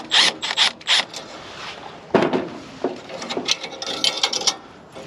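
Crescent wrenches loosen the line fittings on an outdoor TXV, making scattered metallic clicks, scrapes and ratcheting clanks in short irregular bursts, close by with no talk.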